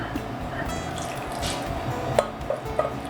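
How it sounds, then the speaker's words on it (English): Wine pours over berries and sugar in a saucepan, a soft liquid trickle with a few distinct drips and splashes near the end, while a voice talks quietly underneath. "and then pour your wine in."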